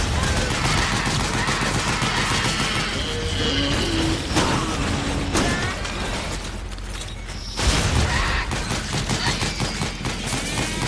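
A mounted machine gun in the Metal Gear Solid 4 video game fires in dense, continuous loud bursts with heavy mechanical clatter and booms, plus a brief pause. Someone talks under the gunfire.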